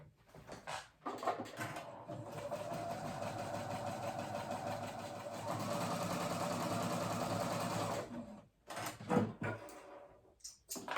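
A sewing machine runs in long, steady bursts while gathering a ruffle for a kids' cardigan, its rapid stitching hum close and fairly quiet, broken by brief pauses and handling clicks.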